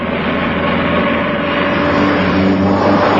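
A car races in a chase scene from a 1985 Indonesian film, its engine a loud, continuous droning roar that holds steady and swells slightly toward the end.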